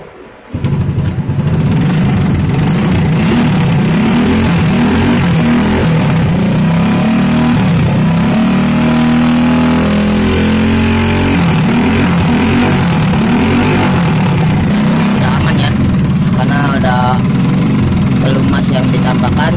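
A Honda Grand motorcycle engine, long unused, runs loud and close through a makeshift exhaust for a long stretch, a rough steady drone with rising and falling revs.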